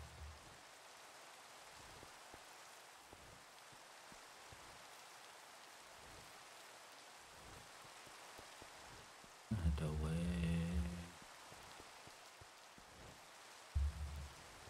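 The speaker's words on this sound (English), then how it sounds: "It's raining." Rain falls steadily in the Minecraft video game, a soft, even hiss of drops throughout, quiet overall, with a couple of brief louder thumps partway through.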